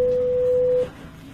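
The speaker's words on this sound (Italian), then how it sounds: "Questo è il campanello, adesso lo suono." A parking barrier intercom bell rings as a single steady electronic tone lasting under a second, followed by a quiet line hiss while waiting for an answer.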